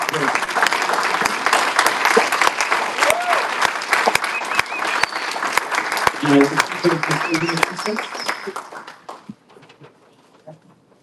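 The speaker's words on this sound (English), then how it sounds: "give a round of applause and gratitude" A conference breakout audience gives a sustained round of applause, loud and full, with voices mixed in, before the clapping thins and fades out near the end.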